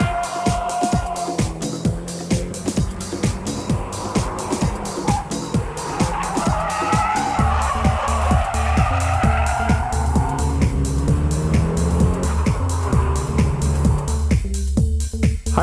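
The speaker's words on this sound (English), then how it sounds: "The high-speed drift is composed from small countersteering and velocity." High-speed drifting car, its engine roaring loud and steady while tyre squeal and skidding rise in the middle stretch, with rapid revving pulses and a deep drone building toward the end.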